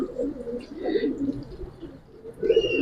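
Young Giribaz pigeons give low, rolling coos nearby in a couple of soft bursts with a brief pause between them and light high chirps above.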